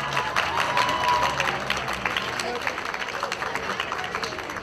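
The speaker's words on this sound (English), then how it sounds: "So a round of applause for my assistants this year." Outdoor audience at a cherry blossom festival clapping in a sustained round of applause, a dense patter of many hands that slowly thins out, heard from within the crowd.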